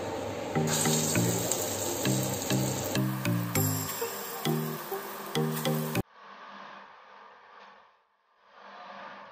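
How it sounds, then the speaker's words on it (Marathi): Dahi vada batter drops frying in hot oil in a kadhai, a steady soft sizzle alone after background music fades, with brief dips in loudness. "आणि याला छान गोल्डन ब्राऊन होईपर्यंत तळून घेऊया."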